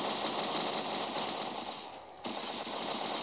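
Rapid bursts of gunfire in War Robots rattle in quick succession, a brief pause, then the shooting resumes, fairly quiet with no talking.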